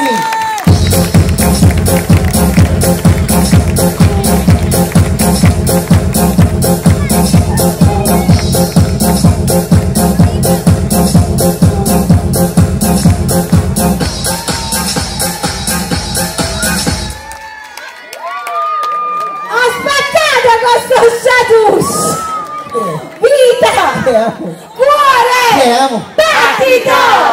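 An audience at an evening ARTETECA show in Falciano di Caserta claps steadily in rhythm over loud music for most of the stretch, then the music stops and voices talk and call out amid scattered crowd noise.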